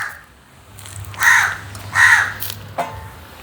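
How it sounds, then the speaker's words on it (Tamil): A crow caws near an outdoor kitchen where vada are frying: two loud harsh caws a second apart, then a shorter third call, over a quiet low hum. "காகத்தை பாருங்க கத்தி கொண்டே நிற்கிது."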